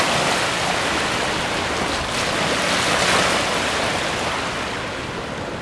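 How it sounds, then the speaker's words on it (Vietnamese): Waves wash onto the flooded shore of Lake Saint Clair at Reaume Park in Windsor, high water during river flooding, a steady loud roar of surf with wind noise throughout and no talking. "Hôm nay nước lớn, thành ra sóng ngập lên bờ"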